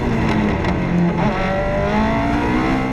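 Palatov D1 race car, a 1,100-pound all-wheel-drive machine with a Hartley V8, roaring loudly and steadily with a sustained engine note that rises in pitch as it accelerates, alone without talk.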